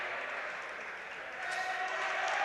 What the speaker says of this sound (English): I think that's why the Norwood crowd is cheering.